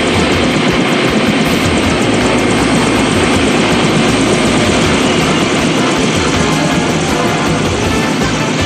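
A loud, constant roar of a helicopter or aircraft engine with rotor chop fills the whole stretch, close and unbroken.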